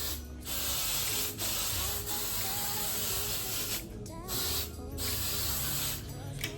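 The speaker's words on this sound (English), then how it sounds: "what I like to do is take my hairspray" Hairspray hisses out in several bursts onto the top of a body wave wig, close up and fairly loud, with brief gaps between the sprays.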